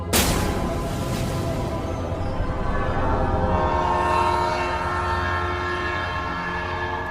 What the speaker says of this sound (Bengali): ট্রেন একটা ঝাঁকুনি দিয়ে চলতে শুরু করলো।